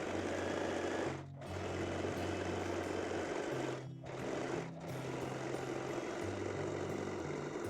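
A sewing machine stitches folded elastic in steady, rapid runs of motor hum and needle clatter, pausing briefly three times before starting again, close and alone.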